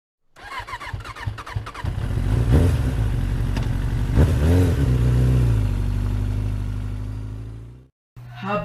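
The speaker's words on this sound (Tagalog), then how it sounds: "Habang nagdadrive ako ng motor" A motorcycle engine revs up hard from a start, its roar rising and holding with rattling, then cutting off abruptly near the end before briefly picking up again.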